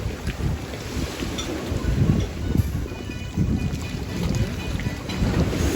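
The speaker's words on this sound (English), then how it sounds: "The ferry just left, and now we're getting the residual waves." Residual waves slosh in a harbour in Skiathos, Greece after a ferry departs, a steady wash of water under heavy wind noise, with no voices.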